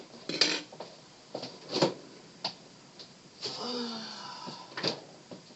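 A spoon scrapes and clinks against a container while scooping hot, freshly cooked meat, a few separate clatters and scrapes spaced unevenly, close and moderately loud with no voices.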